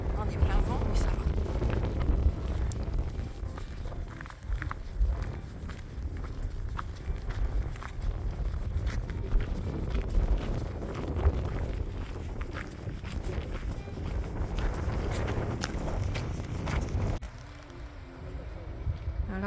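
Strong wind buffets the microphone in a steady roar on a high-tide coastal footpath on the GR34 in Brittany, near Pléneuf-Val-André, with the sea close by and footsteps under it; the noise drops briefly near the end.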